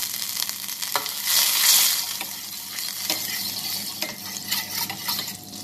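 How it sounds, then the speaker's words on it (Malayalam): Butter melting in a cooking pan for a no-bake Oreo cake, sizzling steadily and close with a brief louder hiss of frying, no talk. "ഇനി നമുക്ക് കുക്ക് ചെയ്യാനുള്ള പാൻ വെക്കാം. രണ്ട് ടേബിൾ സ്പൂൺ ബട്ടർ ആഡ് ചെയ്ത് കൊടുക്കാം."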